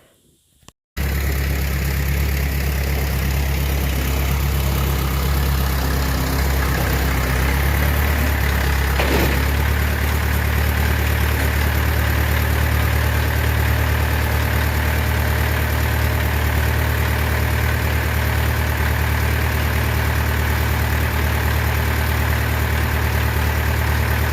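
A 1964 John Deere 3020 tractor engine idles steadily with a deep, even rumble that runs loud and unchanging for the whole stretch, with no voices over it.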